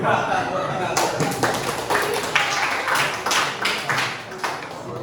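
Scattered hand claps and taps from a group doing a focus exercise, uneven and overlapping, mixed with voices talking and calling out throughout.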